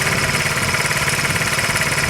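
A 1984 Honda Z50R minibike engine running at a steady idle, close and loud, with a fast even buzzing putter and a slight knocking pulse, with no voices.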